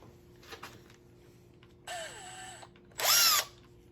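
Milwaukee M18 impact drivers drive screws into a wooden stud in short bursts: a quiet tap, then a sustained whirring run near two seconds, then a louder, sharper burst around three seconds, close and without talk.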